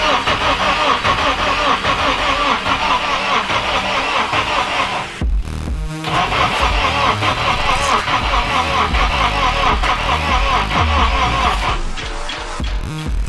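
A K24 engine swapped into a Mazda RX8 cranks and starts, then runs loud and close with a steady, rough idle. A brief dip partway through comes before it settles back into a constant run.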